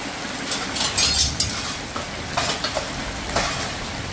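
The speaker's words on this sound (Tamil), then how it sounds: "நல்ல மழை வந்துருச்சு" Heavy rain pours down in a steady, dense hiss close by, with a few louder splashes and faint clinks scattered through it.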